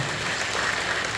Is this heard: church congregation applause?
yes